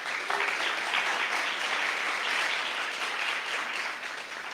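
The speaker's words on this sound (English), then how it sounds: "Big applause for Nasco, please" Sustained applause from a theatre audience at a startup pitching competition, a dense steady wash of many hands clapping at even loudness throughout.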